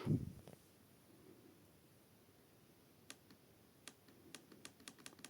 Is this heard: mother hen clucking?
no